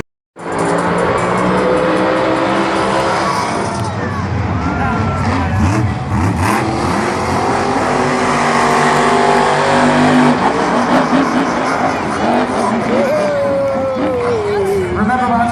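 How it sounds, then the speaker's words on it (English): Monster Jam monster truck engines roar and rev hard during a practice run at the 2016 World Finals in Las Vegas, a loud sustained racing engine drone with surging pitch and tire noise, an announcer talking over it. "Monster Jam truck laying it all on the line here for practice."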